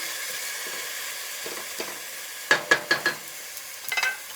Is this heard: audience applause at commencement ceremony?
no